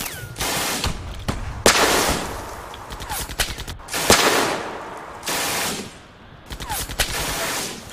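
Loud gunfire crashes through a WWII battle scene in rapid machine-gun bursts and single shots, spaced by short pauses, with a little distant shouting mixed in.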